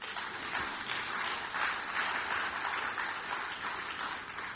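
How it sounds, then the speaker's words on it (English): Faint, distant applause from an audience at an environmental symposium, a steady soft patter of clapping lasting the whole stretch without any voices over it. "Oh, can I have some applause?"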